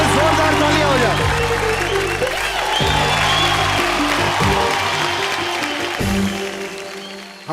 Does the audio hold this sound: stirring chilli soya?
no